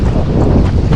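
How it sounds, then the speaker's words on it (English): Strong wind blows at a dam, with loud, continuous buffeting and rumble close on the microphone. "It's just real windy at the moment."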